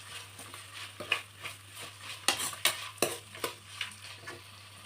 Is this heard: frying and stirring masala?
yes